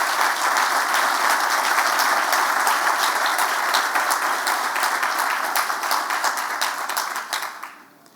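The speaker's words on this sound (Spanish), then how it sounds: "Por favor, les pido un fuerte aplauso" An audience at a tribute ceremony for Colombian football coach Francisco Maturana breaks into strong, sustained applause, a dense even roar of clapping that holds for about seven seconds before fading out.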